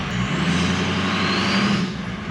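A 6.0L Powerstroke diesel pickup truck engine with a faulty EBP sensor roars steadily and loudly nearby, with a rough, rumbling drone and a hissing wash over it.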